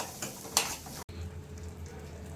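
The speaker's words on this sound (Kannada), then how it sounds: "ಹಾಕೊಂಡು ಚೆನ್ನಾಗಿ ಕಲಿಸ್ಕೊಳ್ಳೋಣ" Egg curry masala frying and being stirred in a pan, a quiet sizzle with a couple of sharp spoon scrapes against the metal near the start.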